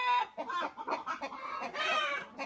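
A pet rooster on a backyard poultry farm clucks and murmurs in a rapid, close run of short throaty calls, loud and alone without talk.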